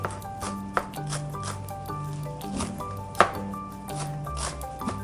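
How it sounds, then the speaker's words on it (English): A knife chops parsley thinly on a board, giving a few soft, irregular chops with a couple of sharper knocks, faint and close against a quiet background hum. "And start chopping it very thinly."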